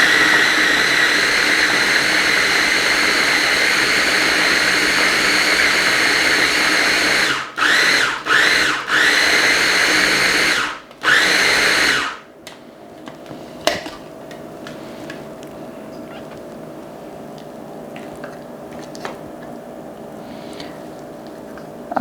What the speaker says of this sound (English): I'm going to go ahead and turn on the food processor.